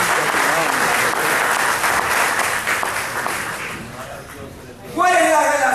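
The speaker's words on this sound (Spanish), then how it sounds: "Dale un aplauso al Señor que te lo está recordando en esta mañana." A church congregation applauds during a Spanish-language sermon, sustained clapping that gradually thins out before a voice resumes speaking near the end.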